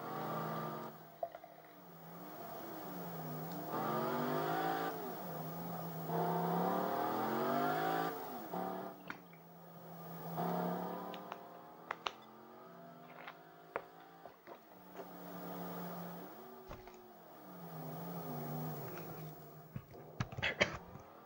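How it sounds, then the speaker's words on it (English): Engine of a Mercedes, a 2017 CLS, driven in the Test Drive Unlimited video game, rising and falling through repeated revving gear changes with steady road noise, loud and continuous throughout. "this is Mercedes, we're driving back to the house now"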